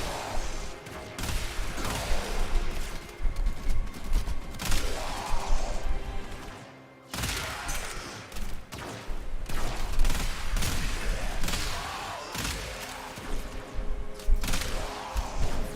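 Dense, continuous gunfire from the Warframe video game, rapid shots and crashing impacts piling into a loud, unbroken barrage with a brief lull near the middle, no voices heard.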